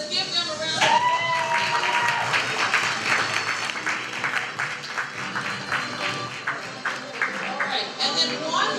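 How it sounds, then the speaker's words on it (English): Applause at a school champions awards assembly on the Roosevelt Campus of NAHS: brisk crowd clapping mixed with cheering voices and some ringing tones, running throughout at a lively level. "Let's give them a round of applause."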